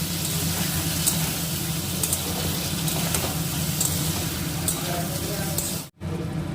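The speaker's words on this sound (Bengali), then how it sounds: "টমেটোর কাঁচা গন্ধটা যায় ততক্ষণ আমরা কষে নিয়েছি" Tomato paste being sautéed with spices in a pan, a loud, dense, steady sizzle close by, with a brief cut near the end.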